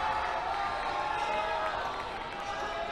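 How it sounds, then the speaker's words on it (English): Harlingen South basketball crowd cheering in a gym, a dense continuous roar of many voices holding steady throughout, with a commentator talking over it. "The Harlingen South crowd, of course, loving it"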